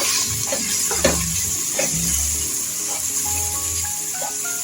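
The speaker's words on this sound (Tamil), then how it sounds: "இப்போ இது நல்லா வதக்கிக்கலாம்." Masala with coriander powder sautéing in a pan for a bottle gourd kurma, a steady sizzle broken by several louder stirring scrapes, with no talking.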